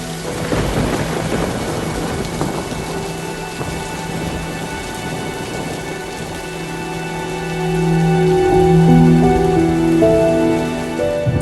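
Heavy rain pours steadily during a thunderstorm from Cyclone Michaung in Andhra Pradesh, with thunder rumbling and rising louder toward the end, and faint tonal music underneath.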